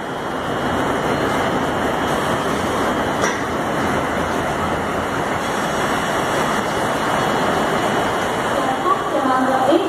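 A Mumbai local train stands at a station platform, giving a loud, continuous rumbling roar throughout, while a voice talks underneath.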